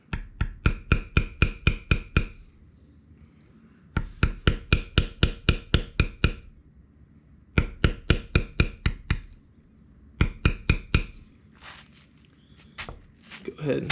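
A beveling tool is struck with a mallet along the lines of a basketweave pattern in leather, giving sharp rapid taps in bursts of six to eight evenly spaced hits separated by short pauses, close and clear.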